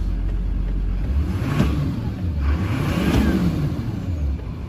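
A 2004 Chevrolet Silverado 2500 pickup truck engine idles steadily with a low, continuous rumble and a couple of gentle revs, fairly close and with no talking.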